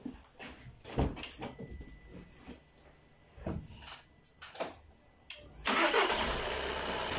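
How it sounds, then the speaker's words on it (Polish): A car with a DPF fault is started, with a clean adapter fitted for a DPF cleaning job. Scattered clicks and handling knocks come first, then the starter cranks and the engine catches near the end and settles into a loud, steady run. "Idę odpalić auto i zaczynamy."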